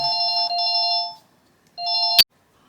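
A mobile phone ringtone rings loudly and close in two bursts of steady electronic melody, the second cut short by a click as it is answered, in a quiet room during a colouring tutorial.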